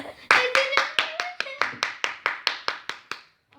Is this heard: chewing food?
no